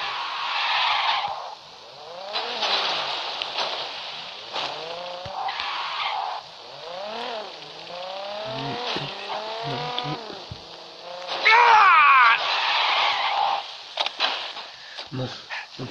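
A motorcycle in the video game Gangstar Vegas revs and whines with repeated rising and falling engine sweeps, plus skidding squeals, loud and up close with no speech.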